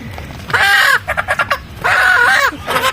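Chickens on a farm let out loud, close clucks and squawks in two long bursts with shorter broken calls between them.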